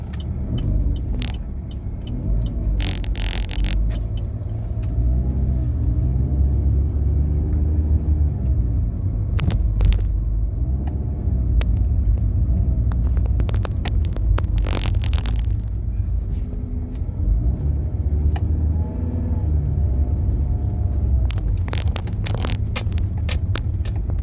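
A car drives along Old El Socorro Road, a steady close engine rumble and road noise throughout, with intermittent rattling and jangling sounds inside the cabin and no talking.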